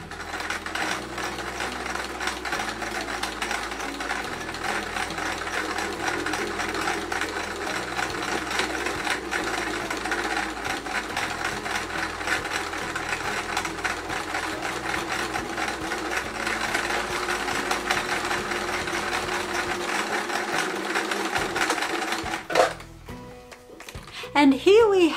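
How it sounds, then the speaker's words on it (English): Sewing machine stitching cream spot fabric pieces across angled corners for a Peter Rabbit patchwork quilt, a steady close mechanical whir and rapid needle clatter running continuously before stopping near the end. "I've got four pieces of the cream spot, which I'm going to stitch right across the angled corners."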